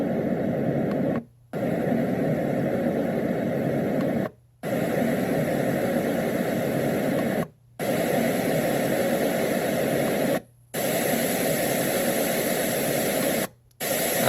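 An AIRSEE portable white noise sound machine plays a loud, steady hiss, interrupted by several brief silences as it switches between different noise settings.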